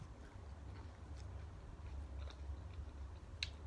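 Quiet, close chewing of fresh raw vegetables eaten with mackerel chili dip, with soft crunchy bites and a few sharper clicks, no talking.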